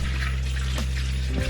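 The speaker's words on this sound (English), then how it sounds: "right now I'm just rinsing it off, and I'm using the alkaline water to rinse it off." Irish sea moss rinsed with alkaline water, a steady wash of running water held close to the microphone over a constant low electrical hum, continuous for the whole moment.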